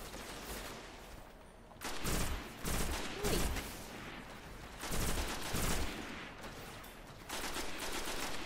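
Bursts of gunfire crackle through a Destiny firefight, arriving in several dense volleys separated by brief lulls, fairly quiet overall and without talk.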